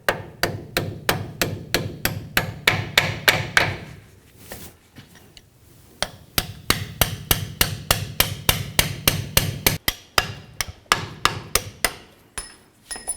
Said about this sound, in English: start driving both of these pins out of the caliper.